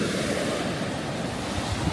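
Atlantic Ocean surf at Cape May beach in New Jersey rolls in a steady, loud wash of breaking waves mixed with gusting wind buffeting the microphone, with no voices.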